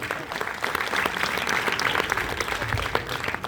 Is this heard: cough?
no